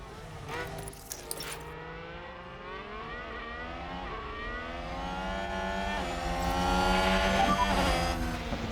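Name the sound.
race cars overtaking in the video game F1 Manager 2022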